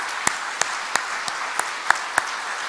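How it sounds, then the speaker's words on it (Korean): A church congregation at a Sunday worship service claps to welcome a first-time visitor: about seven sharp, evenly spaced claps, sparse rather than a full ovation, fairly close and alone with no talk. "우리 한번 박수 한번 납시다."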